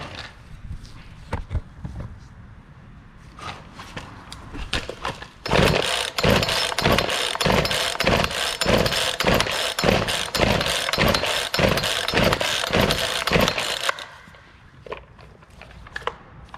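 A Poulan 2450 chainsaw with an 18-inch bar gets several quick pull-cord tugs, then fires and runs with a loud, throbbing, uneven rhythm for about eight seconds before cutting out.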